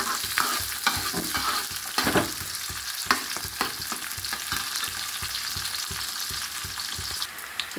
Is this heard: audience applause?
no